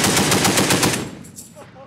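.50 caliber machine gun fired full auto from the hip: one loud, close burst of rapid, evenly spaced shots lasting about a second, followed by a ringing decay.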